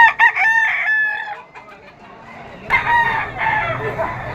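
A white Kelso gamefowl rooster at a Malabon pet market crows loudly and close by in two bursts, with clucking between them.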